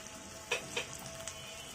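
Softened onions sizzle in a pan as ginger-garlic paste goes in for a fish curry, a faint steady fry with two brief scraping stirs close together.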